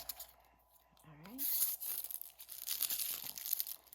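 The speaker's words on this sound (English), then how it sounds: "I'm just going to peel, it comes with a clear film on it, and you just take that off." Clear protective film is peeled off an alcohol ink painting, giving quiet crinkling and tearing rustles that grow louder partway through, close up, after a brief voiced sound.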